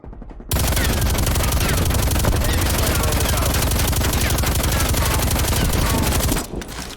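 A Stoner 63 machine gun in a video game fires one long, loud, unbroken burst of rapid shots for about six seconds, then stops abruptly.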